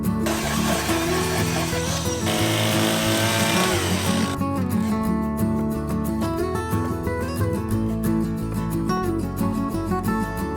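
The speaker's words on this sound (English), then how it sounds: "That's our chainsaw carving." A loud chainsaw whines and revs close by as it carves wood, its pitch shifting as it cuts, then settles into a rough, pulsing drone.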